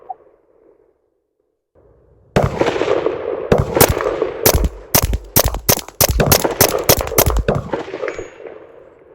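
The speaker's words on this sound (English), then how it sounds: "We're going to shoot like that because that's how Bond does it" Walther PPK/S .22 LR pistol firing at a shooting range: a rapid string of sharp, loud cracks with short gaps between them, starting after a quiet pause and coming close together toward the end.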